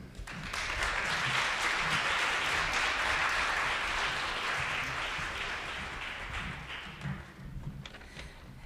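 An audience at a commemorative lecture event applauds, a dense burst of clapping that swells quickly, holds steady for several seconds, then tapers off near the end.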